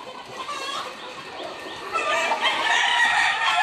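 Chickens on a farm cluck and crow steadily at close range, a dense chorus of fowl calls that grows louder and busier partway through.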